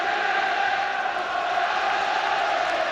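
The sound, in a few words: football crowd cheering in the stadium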